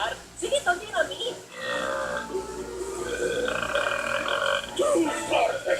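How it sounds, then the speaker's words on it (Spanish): Burping from someone who has eaten garlic bread, a raspy eructation heard amid animated dialogue from a cartoon scene, with voices talking over it throughout. "Ese es el problema con el pan de ajo, me hace eructar."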